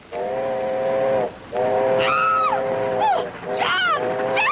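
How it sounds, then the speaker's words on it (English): A steam train approaching in a 1930s setting, its whistle sounding in several long sustained blasts that rise and fall in pitch, loud and close against a steady rumble of rail noise. "There's a train coming!"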